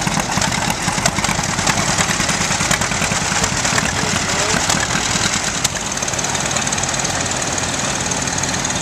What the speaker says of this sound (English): Next going through is a Case, and that's followed by a Massey Harris propane-driven tractor.